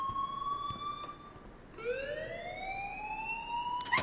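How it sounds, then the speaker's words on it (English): An alarm rings in the video game Life is Strange: a steady electronic tone that breaks off, then returns as a rising, siren-like wail, at moderate volume with faint clicks around it and no talk. "please turn off that alarm since that's your job."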